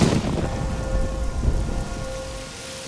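Steady hiss of plasma rain pours down in the video game Oblivion, with a low rumble and a faint sustained tone beneath, loud and continuous without voices.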